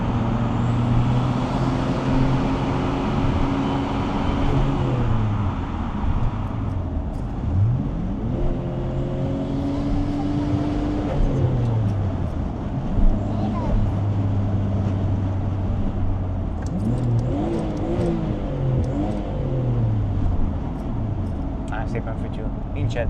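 A 1990s Nissan Skyline GT-R R32 with a Stage 2 tune, around 600 horsepower, runs and revs, a rising and falling engine note with turbo whistle, heard under someone talking through much of it.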